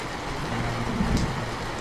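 Steady rain patters in a continuous hiss, with no voices.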